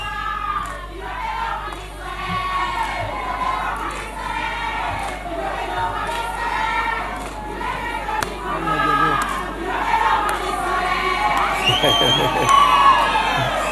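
Crowd at a Kenyan public gathering cheers, whoops and shouts in welcome of a visiting dignitary, a loud, sustained roar of many voices that swells toward the end.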